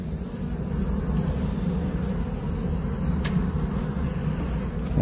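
Carniolan honey bees buzzing at an open hive, a steady dense hum with a brief click partway through, continuous and fairly close throughout.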